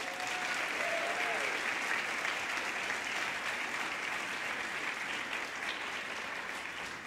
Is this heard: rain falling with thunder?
no